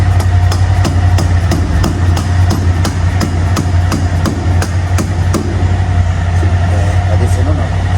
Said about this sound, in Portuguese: Martelinho de borracha para não machucar nada.